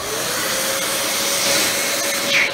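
Dyson DC14 Animal upright vacuum cleaner switched on with its brush roll spinning, a steady airy motor whine with a faint rising tone near the end, close and unaccompanied by speech.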